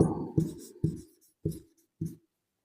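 A pen or marker scratches out a chemical structural formula in short bursts, five distinct strokes with brief pauses between them, close and quiet, with no talking.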